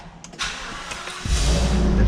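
A commercial vehicle engine, inspected as part of a CDL pre-trip check, cranks briefly and then catches, settling into a loud, close, steady rumble.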